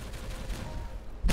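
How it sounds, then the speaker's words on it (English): An explosive detonates in the beaver colony-building game Timberborn. A low, muffled rumble builds and ends in one sharp, loud blast. "Got another explosive in there. Let's detonate this out here."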